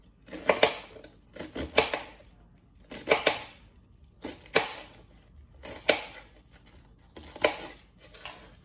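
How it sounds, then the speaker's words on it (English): A knife slicing through vegetables for a plantain and veggie dish, about eight separate crisp cuts against a board, spaced evenly at roughly one per second and heard close with no talk. "So I'm just going to slice it. Slice it again."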